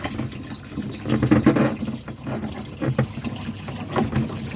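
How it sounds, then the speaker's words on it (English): Water from a running pump gushes through a hose into a big snapping turtle's tank, a steady splashing fill with gurgling surges, close and fairly loud, no talking over it. "The pump is still running, and now I've got the hose"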